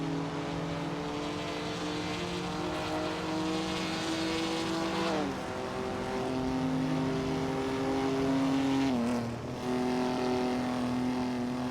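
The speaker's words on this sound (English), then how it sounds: "We're diving into an exciting race with some amazing AI-driven cars today." Race cars roar in an AI-driven racing video game, one of them a 1969 Pontiac GTO, with engines droning continuously and climbing in pitch, then dropping sharply at gear shifts.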